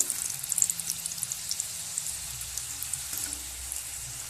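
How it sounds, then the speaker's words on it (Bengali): Cut French fries frying in hot oil make a continuous bright sizzle with scattered crackling pops, steady and close throughout, with no talking. "এবার আমরা এই কাটা ফ্রেঞ্চ ফ্রাইগুলোকে ভেজে নেব।"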